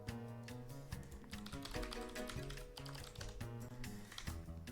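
Rapid keyboard typing on a computer during a game development session, a run of quick clicks sitting beneath steady background music, with no talk.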